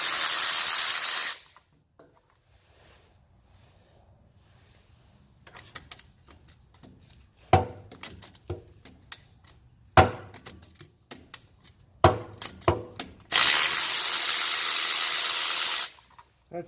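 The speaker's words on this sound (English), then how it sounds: "we're going to go ahead and get each one of these bolts out." A power tool bursts loudly twice while removing bolts from the front axle of a 2017 Jeep JK, with sharp metallic clanks and knocks of wrenching in between.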